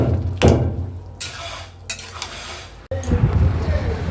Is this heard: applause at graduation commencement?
no